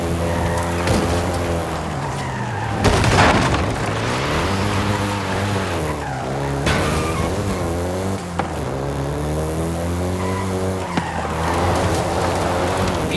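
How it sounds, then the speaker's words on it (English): A Volkswagen Golf GTI in Forza Horizon 5 revs and races, its engine rising and falling through gear changes with tire squeal and skids, loud and continuous with a brief sharp burst near the start. "the Golf GTI you're driving right now"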